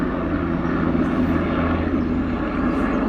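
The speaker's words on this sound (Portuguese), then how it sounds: "Não vou começar a gravar de novo por causa do helicóptero, não." A helicopter passes overhead outdoors with a steady, loud, broadband rotor and engine roar and a low throbbing hum. The roar holds constant throughout without fading, and no one talks over it.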